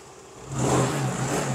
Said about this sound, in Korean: 스타트 모터를 강제로 킥으로 돌린 거예요. 그러면 시동이 걸리잖아요.